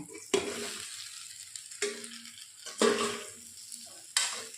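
Taro pieces go into hot oil seasoned with five-spice and fry with a sharp sizzle, broken by several loud stirring scrapes and clatters in a pan. The frying is close and steady, with no talking.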